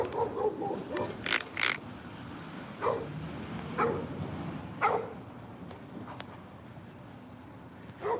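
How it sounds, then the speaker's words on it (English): A dog barks several times from a short distance during an outdoor walk, scattered sharp yaps spread across the stretch over low traffic rumble. "You know why he's barking at you?"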